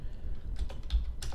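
Fast, steady typing on a computer keyboard, with close, crisp key clicks following one another in an uneven rhythm and no talking.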